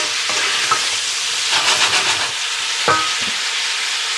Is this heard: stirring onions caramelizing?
yes